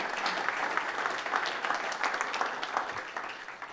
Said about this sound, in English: Big round of applause for Chauncey.